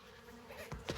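Honey bees around a beehive on a warm November day give a faint, thin buzz, with a couple of soft bumps near the end.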